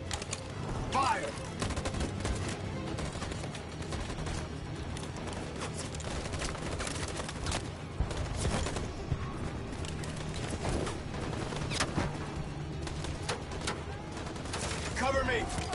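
Gunfire in Detroit Become Human, dense and continuous with sharp cracks and bursts layered over a busy, noisy battle backdrop, sustained at steady loudness throughout.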